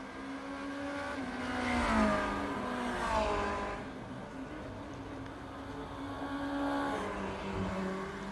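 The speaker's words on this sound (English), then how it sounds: "You can hear a car coming into pit lane now." A Formula Renault 2.0 race car in iRacing pulls into the pit lane at the Red Bull Ring, its engine a steady, moderately loud harmonic drone that rises and falls in pitch. Faint voices can be heard under it.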